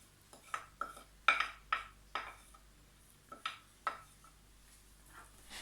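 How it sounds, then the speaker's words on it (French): Rice, tomato and herb mixture stirred in a pan, a series of separate utensil clinks and scrapes against the pan in an irregular rhythm, close and fairly quiet, no talking. "Hop, et on continue de mélanger."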